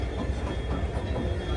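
Vivek Express train rolling steadily with a continuous low rumble of wheels and carriage noise, heard from inside at a constant loudness, no voices.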